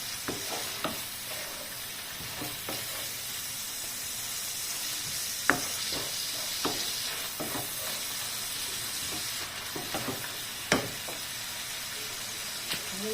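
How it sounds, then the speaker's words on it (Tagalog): Beef frying in a pan, with a steady sizzle running throughout, loud and close, broken by sharp scraping stirs and utensil clacks at irregular intervals. "Luto-luto na konti yung beef."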